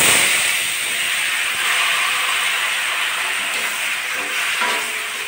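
Chopped tomatoes hitting a hot pan for a sweet-sour Bengali chutney with dates and dried chilli, giving a loud, dense, broadband sizzle that hisses continuously and eases slightly over several seconds, with no talking.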